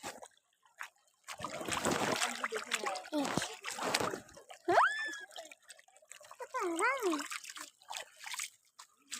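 Cut fish rinsed in water, intermittent splashing and dribbling in bursts, with voices heard in between.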